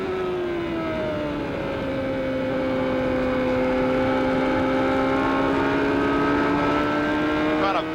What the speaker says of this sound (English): Dominic's motor a little rough.